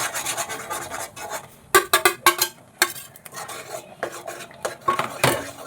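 Repeated scraping and stirring of a spoon against a metal pot as semolina is stirred into boiling water, in irregular bursts of rasping strokes, close up with no talking.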